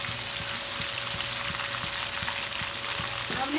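Ginger garlic paste fries in a spoonful of cooking oil in a pan, a steady close sizzle with faint rhythmic stirring scrapes, no talk.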